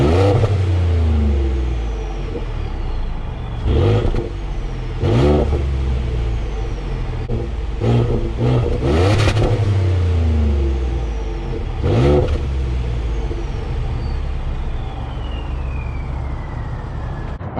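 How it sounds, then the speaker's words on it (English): A 3.5 EcoBoost engine with a resonator-deleted exhaust idles with a deep, raspy exhaust drone, punctuated by several sharp revs that rise and fall, recorded close up at the exhaust. "let me put it by the exhaust really quick and see what it sounds like"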